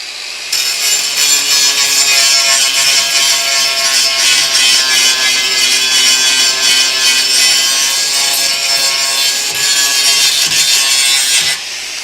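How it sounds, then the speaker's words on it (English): An angle grinder cuts into the rocker panel of a Dodge crew cab truck, a loud, steady, high-pitched abrasive whine that holds for about eleven seconds. It starts abruptly and cuts off near the end, with no talk over it. "Just gotta grab that with a grinder"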